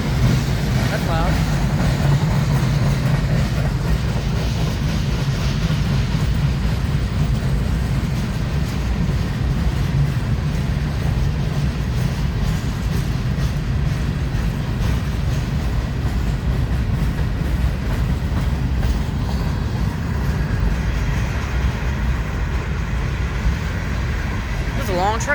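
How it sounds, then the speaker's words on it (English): A very long freight train rolls past steadily and loudly at close range. The rumble and the rhythmic clatter of its cars carry on without a break, with faint voices now and then. "It's a long train."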